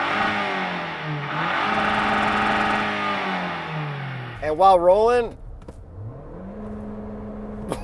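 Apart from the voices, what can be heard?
SUV engine revving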